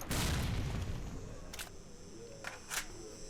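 A muffled boom from a grenade exploding in the S.T.A.L.K.E.R. video game, a loud burst at the start that decays into a rumbling wash, followed by a couple of brief sharp gunshot-like cracks.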